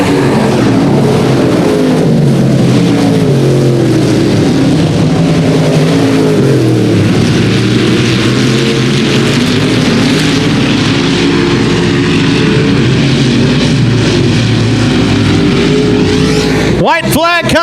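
Dirt track race cars roaring around an oval as a pack, a loud continuous engine drone with cars passing close, heard under an announcer's steady commentary.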